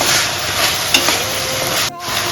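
Chicken stir-fried for fried rice over a full gas flame, a loud continuous sizzle and hiss with light stirring scrapes, close by, cutting off briefly near the end.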